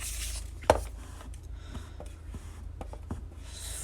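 A pencil scratches briefly on paper, opening with one sharp tap and then a few soft, faint strokes in a quiet room with no talking.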